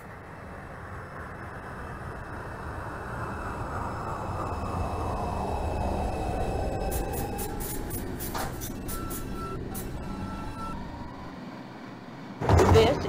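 A Bronx-bound 5 express subway train in the OpenBVE simulator rumbles and whines as it slows at 86th Street on Lexington Avenue, brakes hissing, followed by door chimes and a clunk near the end.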